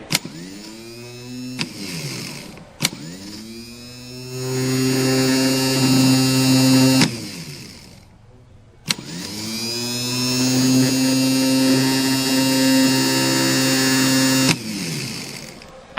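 A car starter motor being bench tested whirs loudly in two long runs, each starting with a sharp click and spinning up to a steady electric whine, with a short quiet gap between them.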